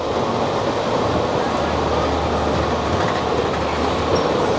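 An amusement park ride train at Fantasy Kingdom runs close by with a loud, continuous rolling rumble and rattle, steady throughout with no break.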